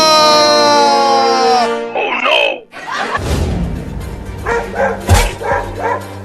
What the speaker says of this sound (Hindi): हाँ जल्दी भगाओ कुत्तों को